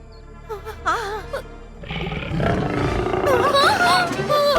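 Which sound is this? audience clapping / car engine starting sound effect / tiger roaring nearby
tiger roaring nearby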